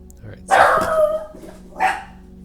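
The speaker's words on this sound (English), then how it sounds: "excuse the dog bark there" A dog barks indoors, two loud, close woofs about a second apart with quiet room tone between them and no voices.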